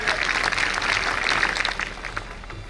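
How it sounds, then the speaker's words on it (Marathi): A crowd of schoolchildren claps steadily for a cooking-competition prize announcement at Doodhganga Vidyalay in Kagal, a dense, even patter of applause filling the hall. "मुलांनी टाळ्या वाजवायच्या आहेत"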